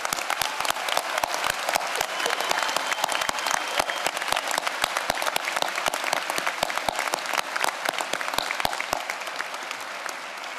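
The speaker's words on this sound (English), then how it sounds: "And let's give them a big round of applause." A large graduation audience applauds military and veteran graduates, a loud, dense and sustained round of clapping that holds steady for about nine seconds and then tapers off toward the end.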